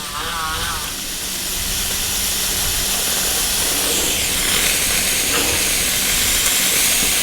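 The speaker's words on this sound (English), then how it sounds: "I think it's pumping. Yeah, look at that. We have steam." A Shark steam cleaner, newly repaired at the pump and running without its nozzle, gives off a continuous loud hiss of spraying steam that builds slightly over several seconds, with brief talk near the start.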